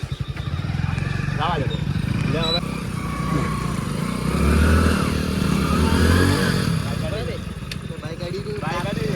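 A motorcycle engine runs close by, revving up and down steadily for several seconds as the bike is pulled out of rain-soaked ground where it got stuck, with people talking over it.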